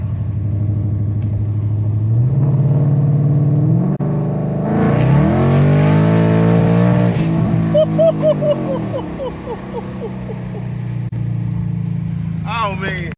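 A sports car engine drops a gear with a blip, then revs hard and climbs in pitch as it accelerates, loud and close.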